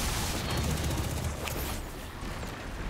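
Gjallarhorn rocket launcher fire in Destiny 2 rolls into a dense, continuous barrage of booming blasts and rapid gunfire, loud and sustained throughout.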